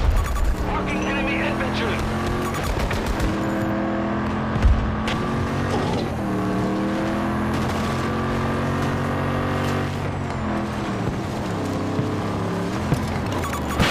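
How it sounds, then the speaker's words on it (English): A heavy enemy tank engine drones steadily in the video game Battlefield 2042, loud and continuous with shifting revving tones, accompanied by a brief thump and faint voices in the background. "Watch out for enemy tank!"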